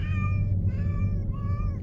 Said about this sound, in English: I'm surprised he hasn't meowed yet.